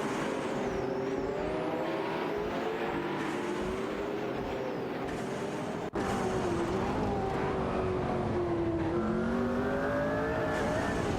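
Engines of video-game race cars, a Lamborghini Huracan Performante and a Ferrari F8 Tributo among them, drone and rise through gear changes, steadily loud and continuous, with whining pitch sweeps and no talk.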